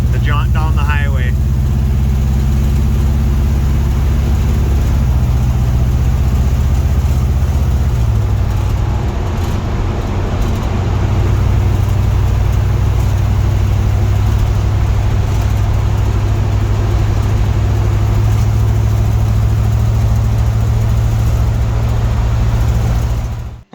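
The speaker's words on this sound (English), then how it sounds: "Here's the scariest part of a first drive. A car that hasn't run since 1976." A 1951 Chevy Bel Air fitted with a 5.3 LS V8 and Mustang II suspension on its first drive down the highway, a loud steady engine drone with a low rumble and constant road noise.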